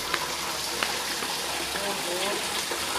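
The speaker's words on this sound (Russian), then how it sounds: "Глянь, как вода течет." A mountain village stream in the Alpujarra, Spain, runs with a constant splashing rush of water close by, while people talk faintly over it.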